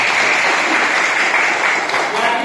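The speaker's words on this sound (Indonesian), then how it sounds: "Gue tepuk tangan dulu buat teman-teman." Steady applause and hand clapping from a classroom group fill the whole moment, dense and continuous at a fairly loud, close level.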